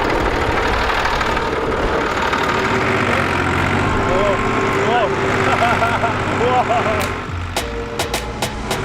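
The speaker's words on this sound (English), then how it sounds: "We're gonna take a quick tractor ride, or maybe drive the tractor, plowing the field" A tractor engine plowing a field in rural Punjab, Pakistan runs steadily with a low rumble throughout, voices talking over it, and a few sharp clanks near the end.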